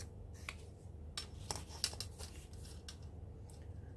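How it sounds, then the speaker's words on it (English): Scissors snip through handmade collage paper, cutting a sheet in half: a handful of short, crisp cuts at irregular intervals, quiet and close, with no voices. "let's cut it in half."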